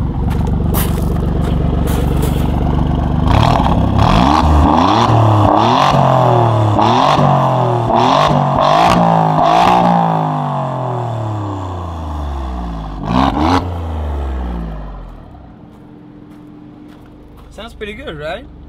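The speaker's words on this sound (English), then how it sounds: "I'll whack it into sport race mode. And you can hear that exhaust." Alfa Romeo Quadrifoglio exhaust in sport race mode, revved hard several times in rising and falling sweeps while parked, loud and close, with the engine settling back to idle and brief talk near the end.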